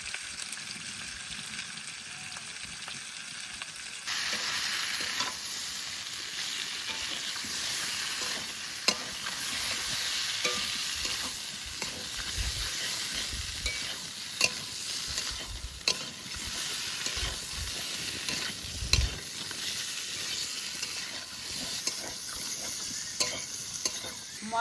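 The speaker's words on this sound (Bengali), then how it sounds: "মশলার মধ্যে ফুলকপি আলু দিয়ে একটু নাড়াচাড়া দিয়ে নিচ্ছি" Cauliflower and potato pieces stirred in a spiced fry on a village cooking stove, a steady close sizzle with repeated scraping stirs and knocks of the spoon throughout, no talking.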